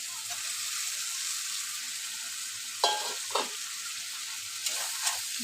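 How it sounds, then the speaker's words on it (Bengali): Fried vegetables go into a sizzling spice masala in a pan for a Bengali fish curry. A constant hiss of frying carries a few sharp scrapes from stirring, close and steady. "এখন আমি ভেজে রাখা সবজিগুলো দিয়ে দেবো।"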